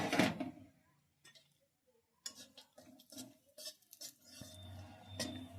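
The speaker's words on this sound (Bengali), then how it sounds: "কাজু নিয়েছি এগুলো ভেজে নিচ্ছি" Cashews frying in ghee in a wok, stirred with a spoon: intermittent scrapes and clinks against the pan over a faint sizzle, close up, with a quiet pause near the start.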